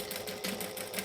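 A sewing machine stitches a pocket with a steady, fast mechanical whir and needle rhythm, close and moderately quiet, with no talking over it.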